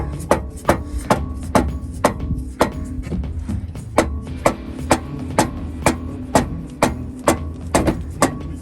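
A hammer taps a bushing through while a RockJock Antirock sway bar is fitted to a Jeep JL, giving a steady series of sharp metallic knocks about twice a second over a constant low engine-like background rumble.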